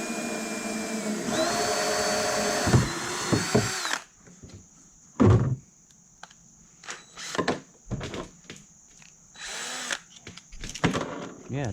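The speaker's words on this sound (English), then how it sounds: "Did you not know drills use friction to cut?" A power drill bores through a homemade fish tank lid, whining steadily for about four seconds before dropping to quieter, intermittent bursts and clunks of the tool being handled nearby.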